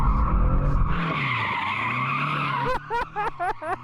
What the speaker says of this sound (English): before we actually do the race, we need to warm up our tyres, so I'm going to warm mine up first